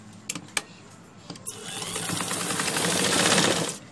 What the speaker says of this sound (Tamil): முதல்ல கால் அளவு தையல் தைச்சிடுங்க.